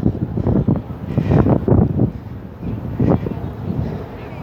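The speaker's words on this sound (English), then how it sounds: "the wind's picked up yet again." Wind buffeting a microphone outdoors, low rumbling gusts rising and falling in loud bursts close to the mic, with no clear speech.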